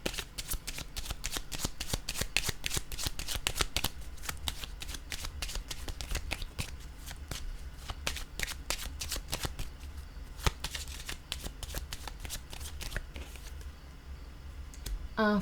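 Tarot cards shuffled and laid down in a long run of crisp, rapid riffling flicks and snaps, close and fairly quiet, with a few firmer taps of cards placed on a surface and no talking.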